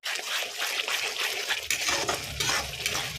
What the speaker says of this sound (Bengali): তারপরে আমি এটা জল দেবো।